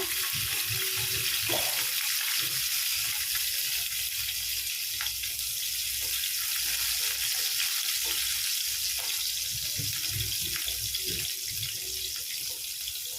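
Chopped garlic frying in oil with cumin seeds over medium heat, a dense continuous hiss and sizzle throughout with occasional faint pops and light utensil movements.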